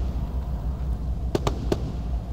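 Three sharp gunshots into water from a boat in the video game Arma 3, quick irregular cracks over a low continuous rumble, somewhat distant.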